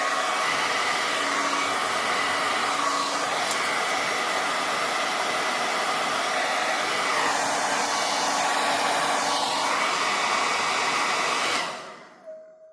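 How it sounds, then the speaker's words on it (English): A hair dryer blows steadily and loudly for about twelve seconds at close range as a wig is styled, with a slight change in pitch partway through, then switches off near the end. "use your hair dryer again."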